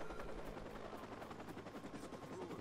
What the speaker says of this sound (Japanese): さあヘリはうまいことちょっと離れてくれてますね。